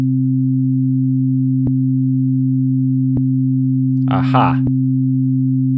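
Two steady sine tones of different pitch sound together at equal level, their combination producing a beating pulse, with faint clicks and a brief spoken interjection near the end.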